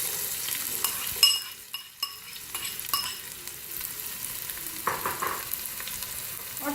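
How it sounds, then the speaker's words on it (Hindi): Onion goes into hot oil for a potato and egg dish, giving a soft, steady sizzle close by, punctuated by a few clinks and scrapes of a utensil against the pan. "देखिए जैसे गर्म हो जाता है तो इसमें हम प्याज शामिल करेंगे"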